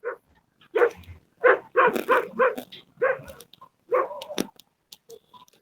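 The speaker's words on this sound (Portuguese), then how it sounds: "O áudio tá ruim, os cachorros." Several dogs bark in short repeated bursts, fairly close and clear, with brief gaps between volleys and no talk over them.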